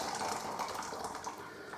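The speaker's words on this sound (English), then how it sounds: "Just going to fill this can up with boiling hot water out of the kettle." Boiling water pouring from a kettle into a brewing can, a short steady gush of liquid, faint and close with no talking.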